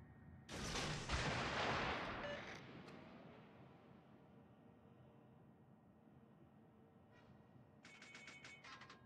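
Naval gunfire in the World of Warships video game: a loud, heavy gun blast that rolls into a long, fading rumble, followed later by faint sharp clicks.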